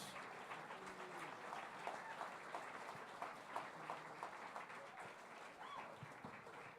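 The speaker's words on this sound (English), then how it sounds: "Can we get some round of applause for Business Boy and Rush?" Workshop audience at a music production and songwriting session giving applause for the speakers, a soft, continuous patter of many hands heard from a distance, faint and even throughout with some murmur underneath.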